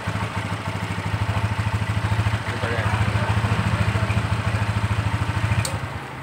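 Idling motorcycle engine, apparently an older bike with points ignition, running steadily with a rapid pulsing rhythm throughout and a slight rev near the end, close and fairly loud.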